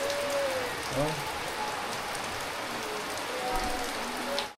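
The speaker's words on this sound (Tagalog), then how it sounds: "Lakas ng ulan." Heavy rain pours down on Itbayat in Batanes, a dense, loud, continuous hiss of drops striking surfaces, with a person briefly exclaiming and faint tonal sounds under the downpour.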